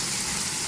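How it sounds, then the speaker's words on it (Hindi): Water poured into onion and garlic paste frying in a pan, a brief loud gushing hiss over the sizzle, close and continuous. "जैसे फ्राई हो जाएगा थोड़ा सा पानी शामिल करेंगे।"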